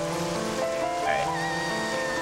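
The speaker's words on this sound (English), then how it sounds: "I just hate the rain." Rain falling in the video game The Legend of Zelda: Twilight Princess, a steady wash of patter under sustained tonal game music.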